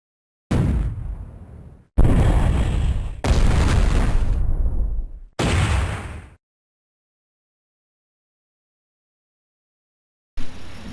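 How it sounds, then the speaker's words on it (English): Massive artillery bombardment from the Battle of the Bulge, heard as four heavy booming blasts in quick succession, each decaying before the next, followed by a long silence and a fifth blast at the end. "the Germans began the assault at 5:30 a.m. with a massive 90-minute artillery bombardment"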